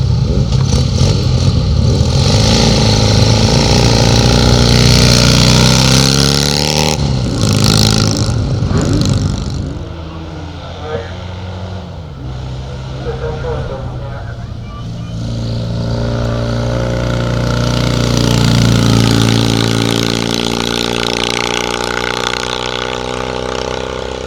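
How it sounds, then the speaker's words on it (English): A Norton Triumph 650 motorcycle races up a hillclimb course, its engine revving loudly and closely, rising and falling through gear changes over about twenty seconds with no speech. "next up it's Mark Livers at Norton Triumph 650"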